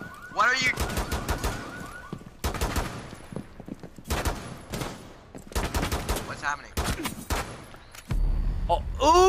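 Rapid automatic gunfire crackles in loud bursts during a video game shootout, several volleys separated by short gaps, with chaotic close-range shots and game sounds throughout.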